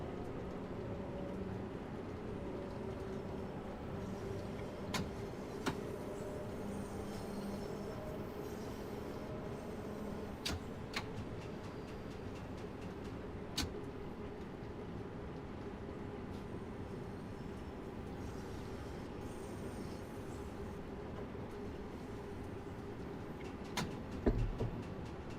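Simulated Bakerloo Line underground train in Train Sim World 2 running steadily uphill at low speed, a continuous rumbling drone of wheels and motors with occasional sharp clicks and a brief clunk near the end, no talk.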